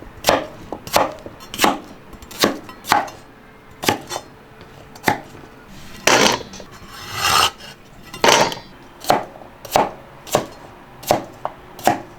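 Knife chopping ginger slices on a cutting board, a series of sharp, close, evenly spaced thuds with a few scraping sweeps between them, loud and with no talk over it.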